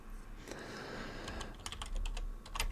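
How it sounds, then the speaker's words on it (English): Fingers tap on a computer keyboard in quick, close clicks, starting sparsely and then speeding into a denser flurry of keystrokes near the end. "I'll type in weekly levels"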